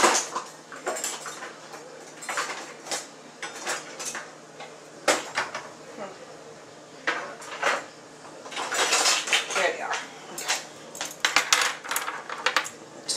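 Cupcakes lifted from a Ninja Cooking System oven with a metal utensil, giving repeated close clinks, scrapes and taps of metal against pan in irregular bursts, busier toward the end, with quiet gaps between.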